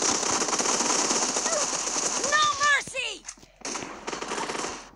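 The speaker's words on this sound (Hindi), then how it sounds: "पीछे से गोली चली थी, पीछे से फायर हुई थी" Rapid bursts of gunfire in the video game PUBG Mobile crackle densely and loudly, briefly thinning out midway before the shooting picks back up.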